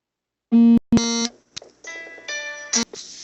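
A phone sounds a series of loud electronic beeps and tones for an incoming call, with several short bursts followed by longer ringing tones, close and clear with no talking.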